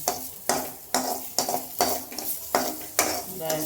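Food is stirred in a pan with steady spoon scrapes roughly every half second, close and clear over a soft continuous sizzle.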